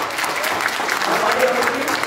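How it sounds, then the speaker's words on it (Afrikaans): A church congregation claps steadily for about two seconds, a dense, even patter of many hands filling the room with no pauses. "Kom ons gee dit vir hulle hande klap."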